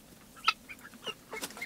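Young chickens in a coop give a few soft, scattered clucks and peeps at close range, quiet and irregular over low background noise.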